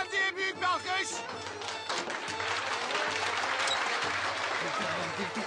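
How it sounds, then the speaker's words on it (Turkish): Audience applause and clapping for a man during a Turkish TV comedy magic-trick scene, a steady, dense wash of hands filling the whole stretch, with some voices mixed in. "Beyefendiye büyük bir alkış."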